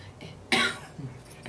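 One person gives a single harsh cough, followed by a softer throat sound and the start of another cough at the very end.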